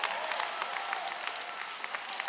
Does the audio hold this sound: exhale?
no